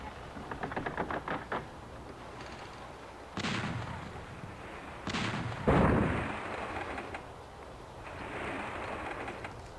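Ship cannons firing in the naval video game Battle Navigation, several booming blasts in quick succession followed by rumbling impacts, loud and close over a steady game ambience with no talking.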